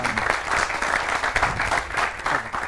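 Studio audience applause on a television talk show with a magician as guest, a steady wash of clapping from a crowd that holds evenly for a few seconds.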